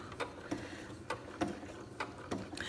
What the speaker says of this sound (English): we can just keep sewing now